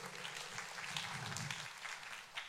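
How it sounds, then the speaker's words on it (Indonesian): Applause from a crowd, a steady patter of many hands clapping for a couple of seconds, moderately loud in a room. "Kita kasih tepuk tangan dulu Bapak Ibu ya."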